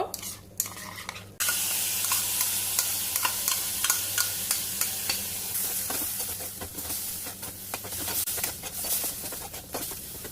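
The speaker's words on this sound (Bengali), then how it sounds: "তো চিকেন গুলো এবার একটু ফ্রাই মতো করে নেব।" Chicken frying in a pan gives a close, continuous sizzle with repeated stirring clatters and spatters throughout, no talking.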